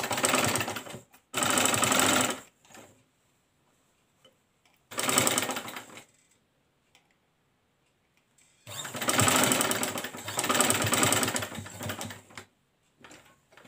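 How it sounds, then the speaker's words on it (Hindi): A sewing machine stitches a baby frock with raglan sleeves, in several separate runs of fast rattling stitching broken by quiet pauses, with a longer burst near the end. "ये देखिए अब हम यहाँ से सिलाई शुरू करेंगे।"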